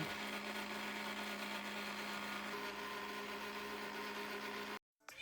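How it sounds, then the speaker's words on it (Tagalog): A blender whirs loudly and steadily for several seconds blending malunggay (moringa) leaves with a little water, then cuts off abruptly near the end. "Tapos nito, ilagay lang natin to sa blender."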